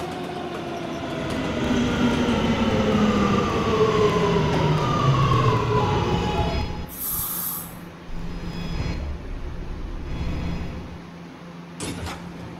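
An R211A subway train in the Roblox game PTA runs along the R line, its motor whine sliding downward over a steady rolling rumble as it slows, followed by a high door chime and quieter idling.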